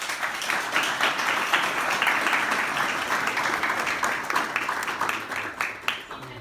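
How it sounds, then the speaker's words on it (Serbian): Audience applause at a tech breakfast talk, a dense sustained wave of clapping from a room full of people that thins toward the end, with some voices mixed in. "Analogni aplauz."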